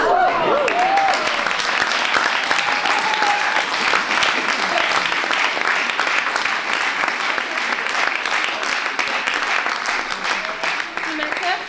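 Loud, sustained audience applause at the opening ceremony of a film festival, many hands clapping densely for around ten seconds and thinning slightly toward the end, with some voices audible within the crowd.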